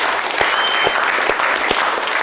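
A team meeting audience gives a round of applause, a steady burst of many hands clapping close by for a couple of seconds with no talk over it.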